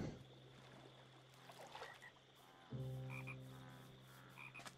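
Frogs in the video game Life in the Village 2 croak in deep, repeated rhythmic calls over a quiet ambient bed with soft water trickle, faint and fairly distant.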